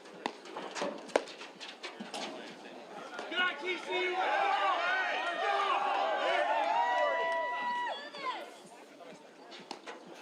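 Spectators at a men's pickleball final in Denver cheer and whoop, the cheering swelling in the middle and mixed with crowd chatter and a few paddle pops, moderately loud.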